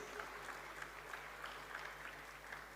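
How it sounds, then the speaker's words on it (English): An alumni audience in a large hall gives a sustained round of applause, steady and fairly distant, with a faint low hum underneath. "I want you all to give a great round of applause for yourselves,"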